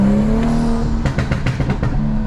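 A tuned Stage 2+ BMW 435i engine drones steadily on a highway, then breaks into a run of rhythmic, surging revs, loud and close, with no talking.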